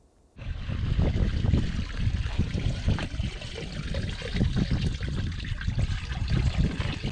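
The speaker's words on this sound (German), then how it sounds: "Wasserablauf" Water drains steadily from the drain of a VW T3 bus at a campsite in Spain, a continuous close trickle and splash that starts abruptly and runs without pause.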